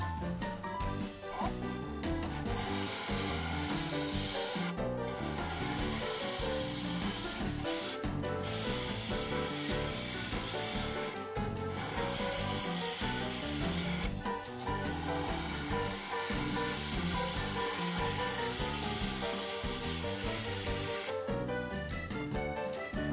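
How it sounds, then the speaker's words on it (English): A 3/8 inch bowl gouge cuts a poplar bowl spinning on a lathe, giving a steady, close hissing shear broken by short pauses as the tool lifts and re-engages. "I'm switching now to my 3/8 inch bowl gouge."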